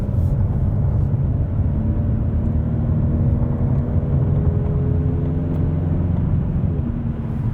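A 2020 Ford Mustang EcoBoost with a 10-speed automatic gathers speed onto the highway, its engine drone and road roar loud and steady throughout, heard from inside the cabin.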